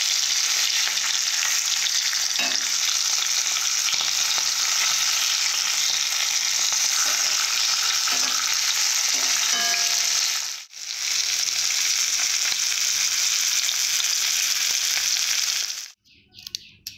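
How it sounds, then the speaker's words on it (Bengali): Fish pieces frying in hot oil in a wok for a spicy golden fish curry, a loud, steady sizzle that runs continuously, cuts out briefly near the middle, then resumes before stopping abruptly near the end. "মাছ ভাজা কড়াতে"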